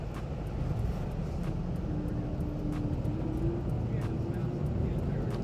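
A Porter Airlines Embraer E195 airliner comes in to land, heard from inside as a steady, low engine drone with a faint tonal whine. Occasional soft clicks and muffled voices sit under the constant hum.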